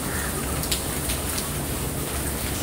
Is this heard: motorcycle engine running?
no